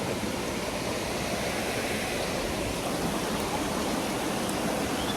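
A flowing stream in Kerala, heard as a steady, dense rush of water that stays even and fairly close throughout, with no speech.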